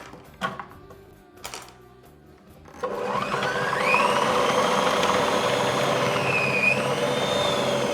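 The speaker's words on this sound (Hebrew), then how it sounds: "חותכים אותו ומרסקים אותו דק" Onion being chopped and finely minced in a food processor for Iraqi semolina kubba: two short knocks, then a steady, loud whirring motor drone that rises in pitch and runs continuously to the end.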